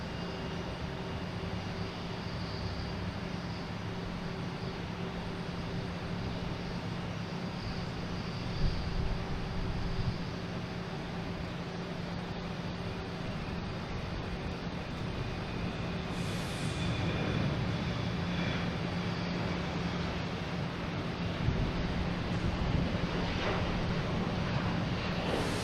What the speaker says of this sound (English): We got Japan Airlines coming in from Tokyo, Japan.